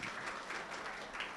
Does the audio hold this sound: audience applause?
yes